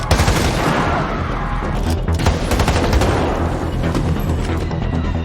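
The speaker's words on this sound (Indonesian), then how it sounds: "dia langsung membuat keributan di pasar itu dengan menembak orang secara acak" A gunman fires at people in a market during a film scene, with loud rapid bursts of gunfire and booming reports layered over a dense, roaring background for the whole stretch.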